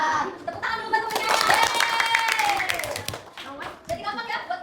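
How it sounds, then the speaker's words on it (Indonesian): Schoolchildren in a classroom clap for a classmate, scattered clapping mixed with chatter and a voice rising over the noise. "Tepuk tangan dulu buat temennya."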